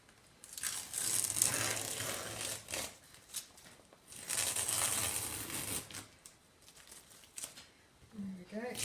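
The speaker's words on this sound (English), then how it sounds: "I'm taking the tape off it." Masking tape being peeled off an acrylic semi-abstract landscape painting, giving long bursts of crackling, tearing strips that come in waves with short pauses, close and fairly loud.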